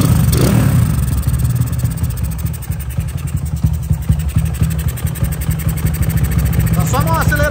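A Honda Titan motorcycle engine starts and settles into a steady, low, throbbing idle, loud and close, with a brief voice near the end.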